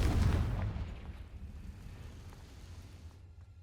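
A Confringo fire spell explosion in Hogwarts Legacy bursts with a deep, heavy boom at the start, then rumbles and fades away over a few seconds.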